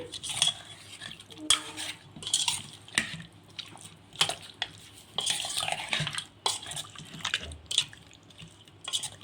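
Chicken being mixed by hand with yogurt and spices in a bowl, a Telangana-style chicken gravy curry in progress: repeated wet squelching and clinking against the bowl in irregular bursts, close up, no talking.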